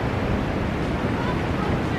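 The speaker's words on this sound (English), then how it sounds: "Oh, I love the sound of the waves." Ocean waves and surf near a bridge with a wide sea view in Gangneung, a steady close wash of water with wind noise across the microphone, a continuous roar with no distinct breaks.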